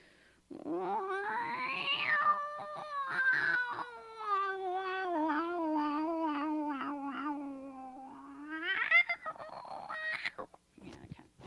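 A person imitates a cat's wail with their voice: one long drawn-out yowl that rises, holds wavering, then climbs to a strained higher cry before breaking off into small sounds, close and fairly loud, with no other talk.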